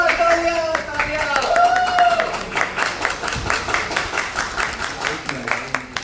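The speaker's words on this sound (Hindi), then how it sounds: "तालियां।" Audience claps along in scattered bursts after a comedic singing performance, with voices talking and a sung tone over the start, then rhythmic clapping continuing underneath.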